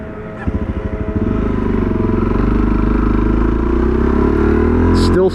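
A Suzuki DRZ400 motorcycle engine with a rejetted carburetor catches from idle, first popping in quick uneven pulses and then settling into a steady, loud, close-up rumble with a faint rise in pitch.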